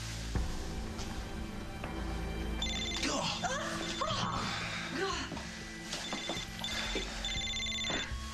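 A telephone rings repeatedly in an indoor drama scene, its bright electronic tones recurring at intervals while people talk over it.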